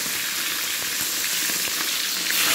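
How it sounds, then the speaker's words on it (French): Meat fries in a pan with a steady, loud, close hiss of sizzling oil and scattered small pops, with no voices. "on fait frire la viande."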